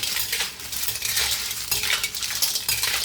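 Nylon shell clams are stirred in a pan of sauce, giving a steady wet scraping and clinking of utensil against cookware with a soft sizzle underneath, close up and without speech.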